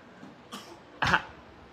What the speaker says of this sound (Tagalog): umuubo-ubo ang baby